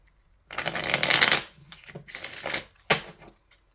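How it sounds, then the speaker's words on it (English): Tarot cards being shuffled by hand, loud and close, in three riffling bursts with short pauses between, followed by a faint tap near the end. "when I was shuffling those cards earlier"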